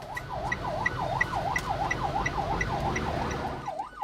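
Loud ambulance siren wailing in a fast, repeating up-and-down sweep close by, with traffic and engine rumble underneath and no talk.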